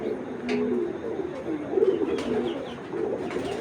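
A Giribaz high-flyer pigeon coos nearby in repeated soft, throaty rolling phrases across a few seconds, with faint background noise.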